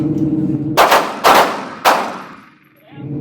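Handgun shots fired at a shooting workshop: a quick series of sharp, loud, close reports about half a second apart. Each crack rings off briefly before quiet room tone returns.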